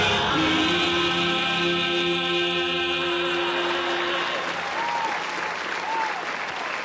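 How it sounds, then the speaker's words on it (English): Steady applause from a live-stream audience in Hinckley fills the whole stretch, a dense wash of clapping with a musical tone lingering underneath before fading toward the end. "give them a round of applause"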